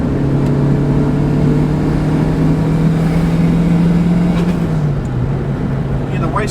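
A 645bhp Honda Civic Type R heard from inside the cabin, a steady loud engine drone with a sustained low tone that shifts downward near the end, suggesting a gear change.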